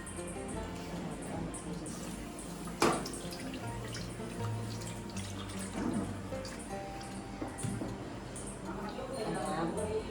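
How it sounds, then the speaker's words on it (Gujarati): Water trickles and splashes as it is poured in for millet and sorghum flour dough, heard in short bursts under a person's talking. "પહેલાં થોડું પાણી, પછી નમક મસ્ત મજાનું."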